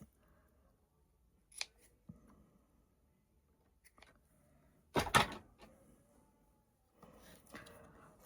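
Scissors cutting a thread while making a primitive fabric deer decoration, with several short, crisp snips up close, the loudest near the middle, between quiet pauses and light handling sounds.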